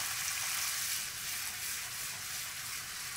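A steady, hissing sizzle of white wine reducing in a pan over high heat while cooking noodles with pork ribs and sausage, close and fairly quiet, with no one talking.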